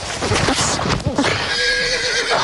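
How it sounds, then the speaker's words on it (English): A domesticated ranch horse staged as a wild mustang neighs loudly and close, a shrill wavering whinny with snorts and hoof clip-clop amid outdoor noise. "It's really a domesticated horse, which came by trailer from a nearby ranch."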